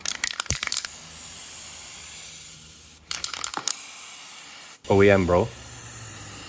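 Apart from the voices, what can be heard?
spray painting BMW E36 kidney grilles silver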